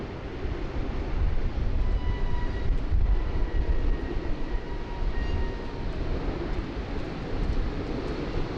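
An aircraft is towed forward across the apron at Sydney Airport on a windy, rainy day, giving a steady, dense low rumble of machinery and wind that holds at an even level throughout.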